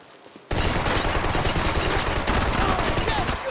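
Sustained automatic gunfire in the shooter game Max Payne 3 kicks in abruptly after a quiet moment and stays loud and continuous, a dense rattling barrage without a break.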